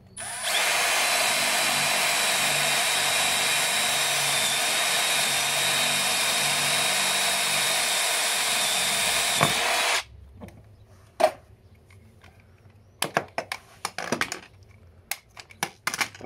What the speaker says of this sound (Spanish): coges el taladro y directamente haces los agujeros